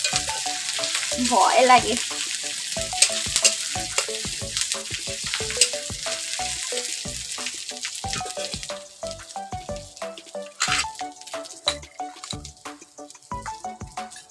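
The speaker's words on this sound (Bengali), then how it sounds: "কেমন ফুটছে বন্ধুরা" Ginger-garlic paste fries in hot oil in a pan for a fig curry, sizzling and sputtering loudly while it is stirred, with repeated scraping clicks. A brief spoken remark comes in near the start.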